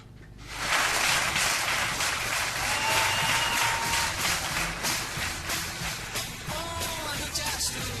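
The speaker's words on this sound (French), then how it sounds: "J'ai même eu les applaudissements." Dense applause from an audience during a French campus radio program, swelling in after a quiet start and sustaining steadily, with a few faint whistles rising above it.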